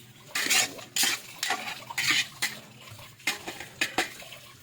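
Food being sautéed in a pan with a metal utensil, repeated scraping and clanking strokes in an uneven rhythm over a faint sizzle, close and fairly loud, no voices.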